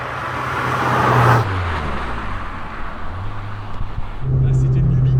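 A Peugeot 106 Rallye engine revs and drops while driving, a loud raspy motor rising and falling through the gears, close by with rumbling road noise.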